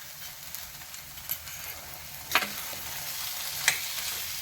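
Wheat flour sheera with sugar sizzles softly in a pan as it is stirred, with a steady low frying hiss and a few sharp scraping clicks of the spoon against the pan.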